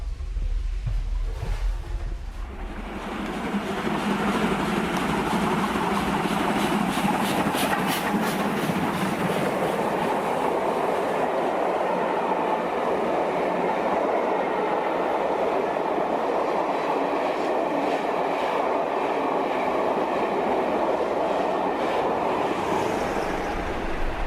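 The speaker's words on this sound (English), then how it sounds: "I would think that the train's doing about 70 miles an hour at the moment." A passenger train on a UK line heading to Paddington runs at about 70 mph, giving a loud, steady rumble and rattle of wheels on rails that carries on without a break and with no talking.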